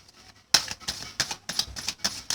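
Tarot cards being shuffled by hand, a quick run of crisp riffling flutters in six or seven close bursts after a soft start, with no talking.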